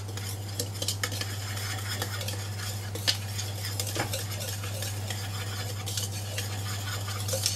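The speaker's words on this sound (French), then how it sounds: "le fouet, on va commencer à mélanger tout ça." Whisk stirring sifted flour and vergeoise sugar in a bowl, a steady scraping and tapping with small clinks, close and moderately loud with no talking.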